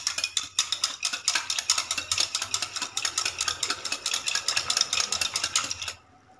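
A spoon clinks and scrapes rhythmically against a bowl while stirring a milk powder mixture for malai kulfi, steady rapid strokes close by, stopping abruptly near the end.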